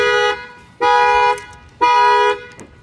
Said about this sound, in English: You're going to see that the factory alarm is going to fire off.